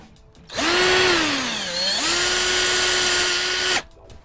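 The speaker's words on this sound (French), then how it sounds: "J'y fais le perçage de l'autre côté." A power drill bores through a metal car roof rack, its motor whining loud and close for about three seconds, dipping in pitch as it bites under load, then recovering to a steady whir before stopping.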